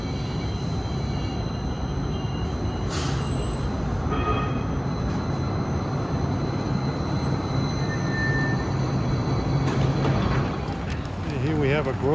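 An NJ Transit Newark Light Rail car heading for Grove Street sits at Franklin Street station, its steady rumbling drone filling the scene with occasional squeals and metallic tones, and a voice speaks over it.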